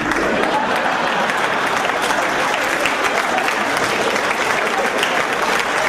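A seated audience at a Hindi poetry gathering breaks into sustained, dense applause, a steady loud wash of many clapping hands with no pauses.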